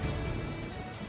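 Rain falls in a dense, even hiss, steady and close, with no voices over it.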